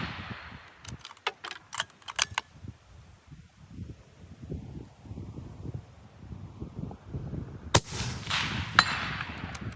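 A Gunwerks rifle fires at steel plates 400 yards away, with several sharp, separate cracks early on and another loud burst later over quiet outdoor background.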